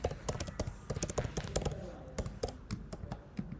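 Someone typing code on a computer keyboard, a quick irregular patter of crisp key clicks, close up and fairly quiet, continuing throughout with brief pauses between bursts.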